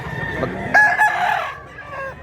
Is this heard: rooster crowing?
yes